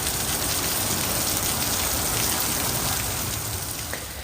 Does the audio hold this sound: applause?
no